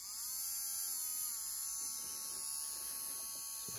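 A small electric motor spins an RC car wheel fitted on its shaft, giving a steady, faint high-pitched whirring hum that holds even throughout.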